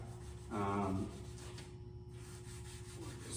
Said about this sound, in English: I've got a little Scotch-Brite pad.